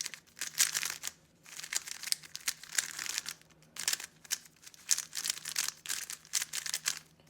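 Dry, unlubricated GuHong v4 speed cube with frosted plastic being turned, giving bursts of rapid crinkly clicking and scraping with short pauses between turn sequences, close and fairly quiet.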